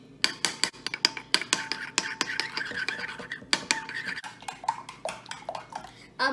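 Two eggs whisked in a bowl with a utensil, rapid irregular clinks and scrapes against the sides, close and fairly quiet, with no talking.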